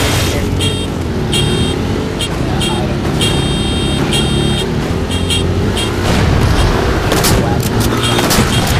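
Gunfire rings out in a video game drag race session, with rapid shots and bursts layered over a continuous car engine roar and loud game sound; no talk is heard.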